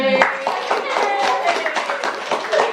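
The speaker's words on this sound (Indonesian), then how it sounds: "Tepuk tangan aku ya." Students clap together at a campus communications event, a lively, close ripple of hand claps with voices and chatter mixed in throughout.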